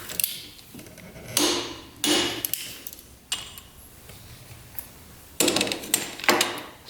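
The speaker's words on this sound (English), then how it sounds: "Let's get those torqued down." A torque wrench tightens the head bolts on a quad engine to 29 foot-pounds in a crisscross pattern. Several sharp metallic clicks and clunks come in separate bursts, close by, with quiet gaps between them.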